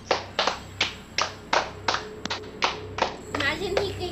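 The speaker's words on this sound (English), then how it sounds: "Imagine he could hear us clapping." Several people clap their hands in a steady rhythm, about ten sharp claps close by, and a voice speaks near the end.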